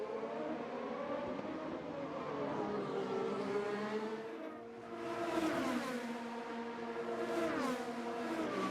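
IndyCar race cars scream past on the Long Beach street circuit in 2012, high-pitched engines rising and falling as they pass, with a second car sweeping by midway through.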